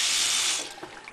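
Tap water gushes steadily over straight-razor shaving equipment for about half a second, then tapers off into a few softer splashes and drips.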